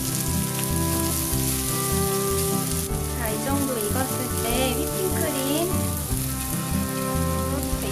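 Ingredients for a pollack roe cream pasta are gently stir-fried in a pan over low heat, a soft continuous sizzle heard beneath background music.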